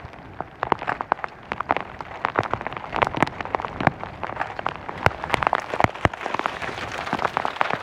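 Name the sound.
hail falling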